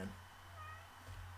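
A house cat lets out a drawn-out meow, close to the microphone in a room with a steady low electrical hum behind it.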